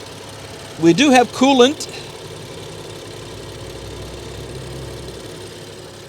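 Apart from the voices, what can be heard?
old BMW car engine idling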